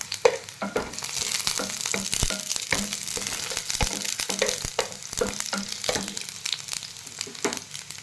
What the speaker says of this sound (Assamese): এতিয়া মই ইয়াতে শুকান জলকীয়াকেইটা দি দিছোঁ।